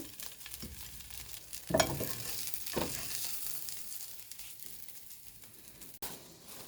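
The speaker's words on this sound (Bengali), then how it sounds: "পেঁয়াজটা বাইজা পরে ব্রেডটা বাজা দিবেন আমি একসাথে দিয়ে দিচ্ছি" Onion and bread fry together in a pan, a soft, fairly quiet sizzle with a couple of louder stirring scrapes and shuffles near the start.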